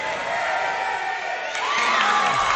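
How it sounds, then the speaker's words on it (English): A state tournament basketball crowd cheers and shouts in a gym, a dense, sustained roar that swells louder partway through with excited whoops. "the crowd on both sides getting very much involved in the game now"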